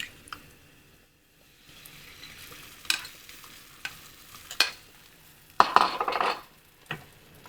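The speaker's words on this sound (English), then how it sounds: "I'm gonna go ahead and fry the egg." An egg fries in a small pan with a soft, low sizzle, broken by scattered clinks of a utensil against the pan and a brief louder burst of frying toward the end.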